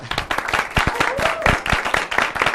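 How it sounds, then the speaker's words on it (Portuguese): Audience applause after a presentation, a short burst of dense, close clapping from a small group, fairly loud and uneven. "Aplausos para a Vitória, gente"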